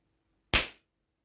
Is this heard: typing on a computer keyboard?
no